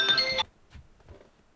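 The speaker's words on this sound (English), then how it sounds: "my mom's ringing" A phone rings with an incoming call, one short electronic ring burst heard nearby before it cuts off, followed by faint rustling.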